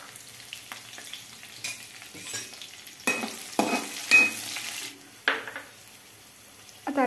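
Green and dried chillies sizzle and fry in hot oil for a cucumber chutney, with bursts of stirring and spatula scraping in the pan, moderately close and without talk.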